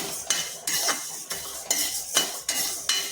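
Fish heads fry lightly in a pan for mung dal, with a spatula scraping and clinking against the metal in quick repeated strokes over a soft sizzle, close and fairly loud, with no voices.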